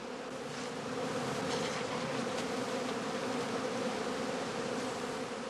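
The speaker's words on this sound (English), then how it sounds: "Bees which have flown away will collect in the winter skeps" Dense, steady buzzing of many honeybees around straw skeps fills the air, a continuous drone from a busy swarm nearby with no voices.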